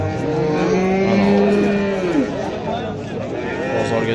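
Cattle at a livestock market give a loud, drawn-out moo lasting about two seconds, rising and then falling off, close to the listener against a steady background of market noise.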